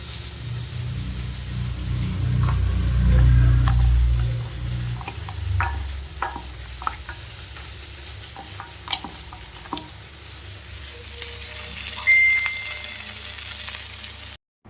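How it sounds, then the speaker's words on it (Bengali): Katla fish fat fries in a kadai of oil with a steady broadband sizzle, joined by scattered clicks and scrapes of stirring and a low rumble early on, no voices. "এদিকে কড়াই তো মাছের তেলটা ভাজা হচ্ছে"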